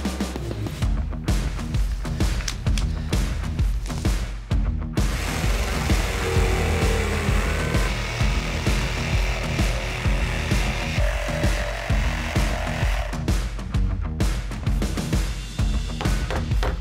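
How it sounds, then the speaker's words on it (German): A power saw cuts into a door frame during removal of a front door, a loud rasping, juddering buzz running in long bursts with a few brief pauses, close and alone without talk. "Ich säge jetzt den Türrahmen ein, damit wir nachher den Türrahmen Stück für Stück demontieren können."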